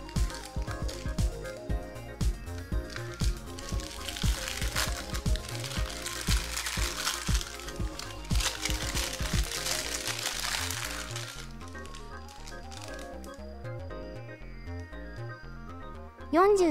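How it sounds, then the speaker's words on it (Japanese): Close-up lens for a Canon EOS T-mount reducer setup being unwrapped from its packaging, with steady crinkling and squishing of plastic wrap close by, busiest in the first ten seconds, then quieter handling with a brief louder sound at the end. "次にクローズアップレンズを開封します。"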